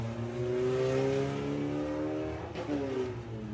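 A Volkswagen Beetle drag racing car accelerates hard at Santa Pod, its engine note climbing steadily through the gears with a brief dip at a shift before rising again, loud and close.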